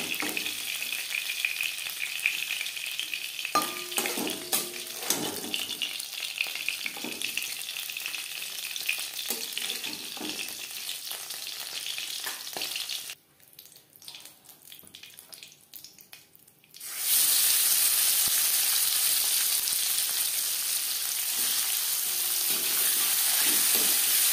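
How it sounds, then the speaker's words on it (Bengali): Live bain (pakal) fish fry lightly in hot oil, a close, busy crackle with scraping stirs. It drops to near quiet for a few seconds, then returns as a louder, even hiss. "জ্যান্ত মাছ আমি একটু হালকা করে ভেজে নিলাম"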